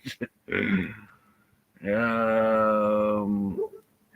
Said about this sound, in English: puppy dog is not happy